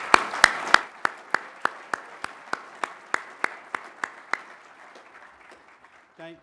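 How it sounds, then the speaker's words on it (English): Rhythmic hand clapping at a commercial real estate seminar, about fifteen distinct claps in a steady beat that soften and fade out, then a brief voice at the end. "I'd like to give Dan a round of applause."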